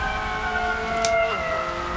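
A wailing emergency siren with steady harmonic tones that bend downward partway through, heard over constant low traffic rumble.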